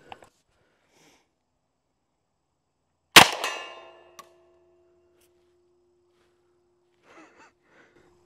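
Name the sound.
M1 Thompson submachine gun firing rounds at range targets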